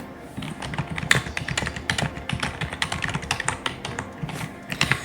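Steady, fast typing on a computer keyboard, with many close, crisp key clicks in an uneven rhythm over a low room hum.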